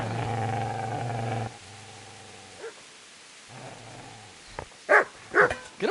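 Dog in Kingdom Come: Deliverance on PS5, low rumbling growls at first, then a few loud close barks near the end, with no talk.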